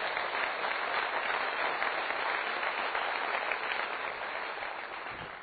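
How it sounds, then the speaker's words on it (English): An audience at a business school annual day bursts into dense, steady applause that fills the room for several seconds, easing slightly toward the end. "Have a big round of applause."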